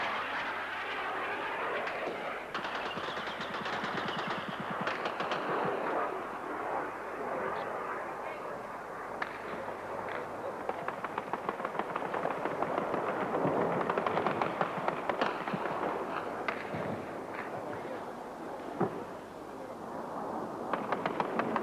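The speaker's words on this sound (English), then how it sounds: "Contestan nuestras baterías antiaéreas y se ve el refulgir de sus disparos en el aire." Anti-aircraft batteries firing during a Harrier air strike on an airfield headland in the Falklands conflict, a dense crackle of distant shots over a rumbling aircraft roar that swells and fades across the whole stretch.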